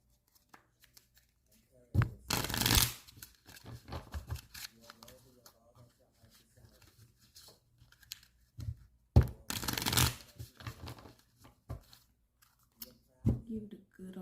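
Tarot cards are shuffled and cut in quick riffling bursts, two longer crisp flurries and several short snaps separated by quiet stretches, with a voice talking softly in between.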